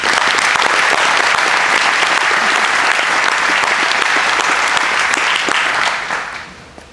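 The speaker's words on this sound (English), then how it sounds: "So give yourselves a round of applause" Graduates at a Master of Health Administration commencement break into loud, dense applause that fills the room, holding strong for several seconds before tapering off, with a few last claps trailing at the end.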